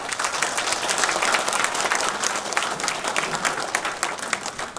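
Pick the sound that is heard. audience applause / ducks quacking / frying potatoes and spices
audience applause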